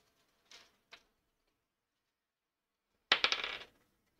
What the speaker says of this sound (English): Hey, Kat, can you get off of my pile of dice?